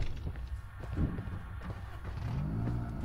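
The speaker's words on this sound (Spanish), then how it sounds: "Si escucharon, Suena un carro." A car engine revs in the horror video game Dead Park, a moderate, rising and falling motor drone with a faint step-like tap in the background.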